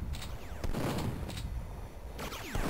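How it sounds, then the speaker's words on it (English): Chain gun fire in Duke Nukem 3D, several short sharp bursts of rapid shots separated by brief pauses, with mechanical clatter and some low rumbling between volleys. "Chain gun's pretty awesome."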